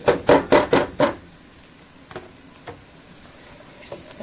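Garlic cloves sizzling in a pan of olive oil and butter with chopped onion, opening with several sharp scrapes or stirs in a quick row, then settling into a quiet, steady sizzle with a few faint knocks.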